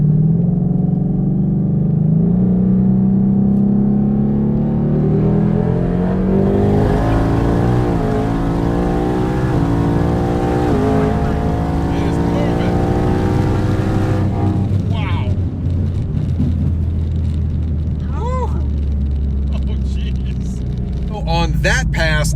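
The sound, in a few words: twin turbo Mustang accelerating on a 60-130 pass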